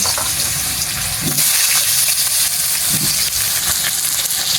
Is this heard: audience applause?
no